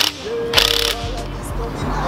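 Ratchet clicking while loosening bolts on a Yamaha Banshee motorcycle during a teardown, with short bursts of metallic pawl clicks and some tonal music in the background.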